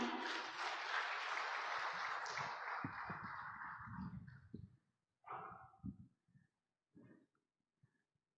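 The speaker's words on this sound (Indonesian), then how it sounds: "Tentunya diiringi dengan tepuk tangan yang meriah." Audience applause greeting the Governor of South Sumatra at the opening of a provincial Quran institute working meeting, a dense burst of clapping that fades after about five seconds into scattered hall noises and brief sounds.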